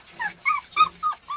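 Purebred beagle puppies whimper and yip in a series of five or six short, high, rising cries, close up and fairly loud, with no voices.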